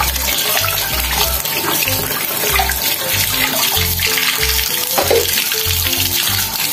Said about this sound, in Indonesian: terakhir kita akan cuci pisaunya